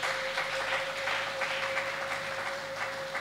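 Church congregation applauding together during a French-language worship service, a steady wash of clapping with a sustained tone humming underneath throughout.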